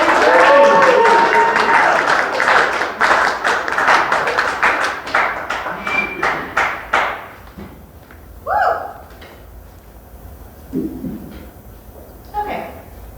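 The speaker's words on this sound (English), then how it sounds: "Let's give a big round of applause for Jody Gray." Audience at an open mic comedy night applauds a first-time comedian, loud clapping that thins into scattered claps after several seconds, with a few brief voices afterward.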